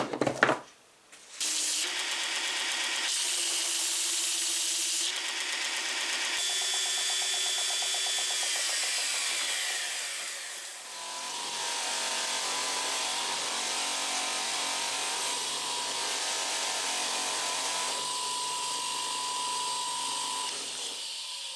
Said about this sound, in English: Let's get it on sander and see how it comes out.